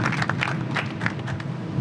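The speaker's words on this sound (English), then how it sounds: "Ladies and gentlemen, big round of applause, please," Scattered, fairly quiet applause from a small gathering at a rooftop boxing press conference greets the fighter Jesse Vargas, a soft, steady patter of hands clapping at a slight distance, with no talk over it.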